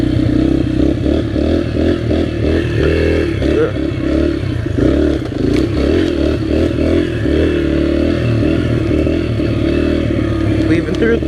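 A dirt bike ridden along an enduro trail through trees, its engine revving and pulsing loudly close up with rattling clatter, while a rider talks over it.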